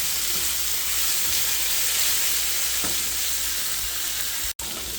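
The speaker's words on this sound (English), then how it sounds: "we're going to mix this up until the veggies get tender. Basically a Mexican stir fry is what we're doing." Vegetables for fajitas crackling in a hot pan as a Mexican-style stir fry, a loud continuous sizzle with occasional stirring knocks, no talking.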